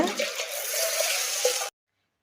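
Water poured from a small vessel into a pressure cooker pot holding rinsed green gram, a steady close splashing pour lasting under two seconds, then cut off into silence.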